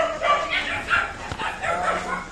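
Several dogs bark and yip close by in short overlapping bursts, with a whimper mixed in, at a home where rescued animals are kept.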